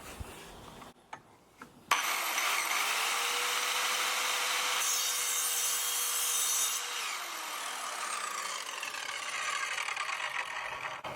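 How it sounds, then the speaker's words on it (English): Evolution R185CCSX multi-material circular saw cutting 15mm copper pipe: the motor spins up abruptly and whines steadily at close range while the blade bites through the metal, then the pitch drops as the cut finishes and it winds down. "Next guys, we've got some 15mm copper pipe."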